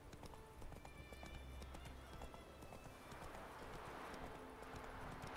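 A horse canters along a path in The Witcher 3: Wild Hunt, its hooves drumming in a fast, dense rhythm under a wash of game wind and ambience.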